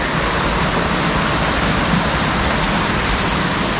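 Water pours and cascades into a caved-in old mine shaft at an abandoned mining town in New Zealand, a dense, steady roar of rushing waterfall spray that stays loud and constant throughout, with no voices.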